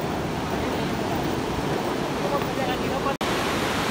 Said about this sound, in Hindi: कितना तेज़ी से गंगा मैया बहती है, साफ़ सुथरी, बहुत सफेद पानी है